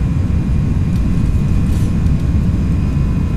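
Airbus A319 engines spooling up to takeoff thrust in the X-Plane 12 flight simulator on a cold-weather departure from Minneapolis, a loud, steady, deep roar that holds constant throughout with no talking.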